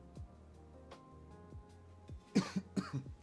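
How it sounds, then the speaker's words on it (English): A cluster of harsh coughs near the end, close by, following a few scattered knocks and thumps in an otherwise quiet room. "I gotta go cough."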